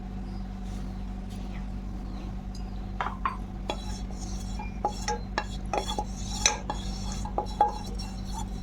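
Fried litti, wheat dough balls cooked with a little ghee, lifted out of a pan with a metal utensil: scattered sharp clinks and scrapes against the pan over a steady low hum, growing busier toward the end.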